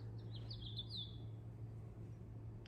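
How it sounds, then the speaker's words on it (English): Birds chirp outside an open window in short high bursts early on, fairly faint and distant over a steady low hum, with quiet background noise throughout. "Can you hear the birds?"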